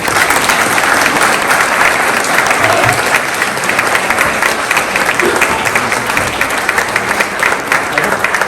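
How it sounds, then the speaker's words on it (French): Sustained audience applause in a hall at a French town mayor's New Year ceremony, a dense, loud, even roar of many hands clapping for several seconds without a break. "Accueillons-les sous vos applaudissements."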